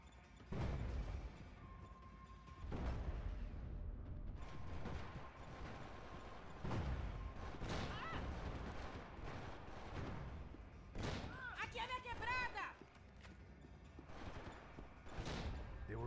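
Gunfire in a Max Payne 3 multiplayer match: heavy single shots and short bursts crack out every second or two, loud and punchy, over a constant game background.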